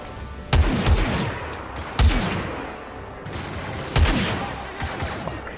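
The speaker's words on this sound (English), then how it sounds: "I gotta reload after, like, every 4 or 5 shots" Bursts of blaster gunfire in the Star Wars: Battlefront 2 video game, three sharp loud volleys spaced about two seconds apart over busy battle noise.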